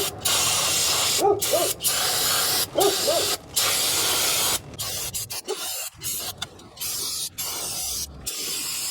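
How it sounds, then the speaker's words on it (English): Brake cleaner sprayed onto the rear brake of a Honda Odyssey in loud bursts of hiss, several long blasts followed by shorter spurts, close up with no talking. "I'm just gonna hit this with some brake cleaner just to try to knock off all this dust"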